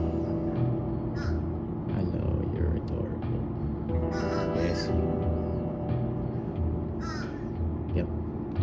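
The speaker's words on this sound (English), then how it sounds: "You're so cute, Mr. Crow." A crow caws several times at close range, its harsh calls rising above steady outdoor background noise while a person talks softly to the bird.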